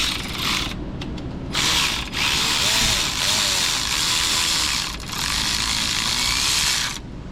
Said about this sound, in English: Begin ratcheting faster.